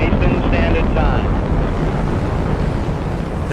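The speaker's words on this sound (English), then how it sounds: "That Saturn V is a powerful vehicle." A Saturn V rocket roars through liftoff, a loud, continuous broadband rumble that holds steady from start to finish, with a few faint tonal streaks early on and no one talking.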